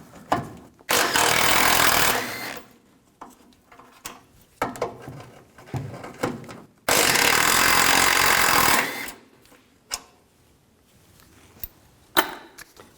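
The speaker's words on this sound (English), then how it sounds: "Take these two bolts out." A 15mm socket wrench works bolts loose from a fog light bracket on a 2002-2006 Chevy Avalanche, with two long loud bursts of rapid mechanical whirring separated by sharp clicks and clanks, close up.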